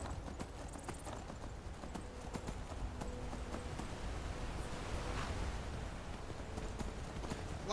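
Horse hooves clip-clop steadily in the video game Skyrim, fairly quiet and continuous over a hissing ambient background.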